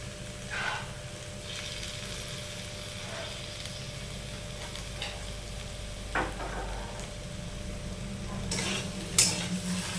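Soybean curry with tomato sauce and Kashmiri chilli stirred and fried in oil, giving a steady close sizzle with scraping stirs and a sharp utensil clink near the end; no talking.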